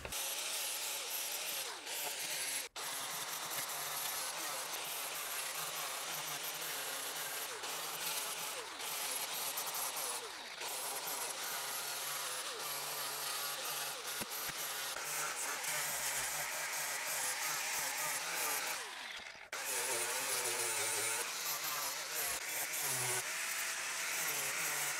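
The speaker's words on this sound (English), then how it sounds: "is just a flap disc sander" A flap disc sander grinds rust, dirt and drilling burrs off a rusty metal inner rocker panel, a loud continuous high-pitched whirring with a few brief pauses and shifts in pitch as it bears down on the surface.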